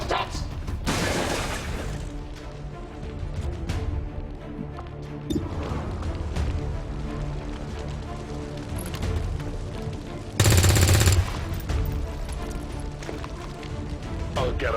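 Gunfire and impacts in the XCOM 2 video game, bursts of shots with a loud crashing blast near the end, mixed under frequent voices and game sound.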